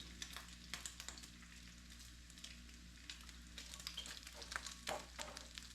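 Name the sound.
bacon frying in a pan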